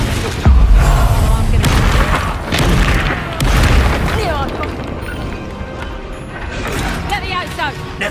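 Confringo fire-blast spells in Hogwarts Legacy go off as several heavy booms and crackling bursts in the thick of combat noise, with voices talking over parts of it.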